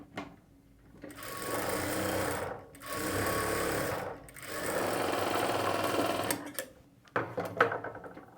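A sewing machine stitches a plain blouse in several sustained runs of rapid, close, loud whirring, separated by short pauses, then ends in a few quick stop-and-start bursts.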